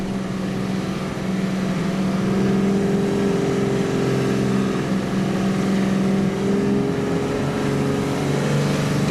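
Off-road vehicle engine revving on a narrow bush track while building up momentum for a hill, a loud, sustained drone with shifting tones that swell and rise over several seconds, close to the listener.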